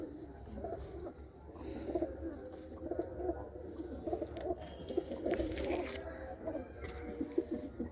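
Loft pigeons coo repeatedly at close range, a low rolling murmur running through the whole stretch, with light rustling and small chirps mixed in.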